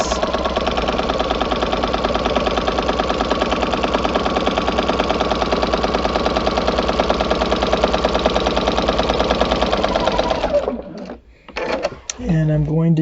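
A sewing machine fitted with a walking foot runs steadily, stitching rows on a quilt as a continuous mechanical whir for about ten seconds, then stops abruptly, leaving a few brief handling noises.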